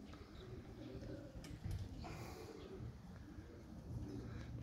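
A pigeon coos softly in a pigeon loft, low repeated calls under a dense, noisy background of other birds, fairly faint and somewhat distant.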